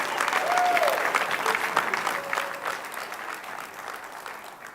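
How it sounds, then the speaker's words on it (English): An audience at a housing awards event in Boston claps steadily for several seconds, a dense spread of handclaps that swells early and then slowly tapers, with faint voices mixed in. "Give them a nice round of applause."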